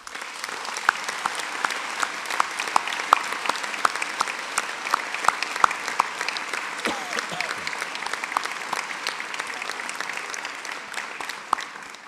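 A large audience at a New Year's civic address in Vernon applauds police and firefighters with sustained, dense clapping and sharp individual claps popping out, steady and strong for over ten seconds.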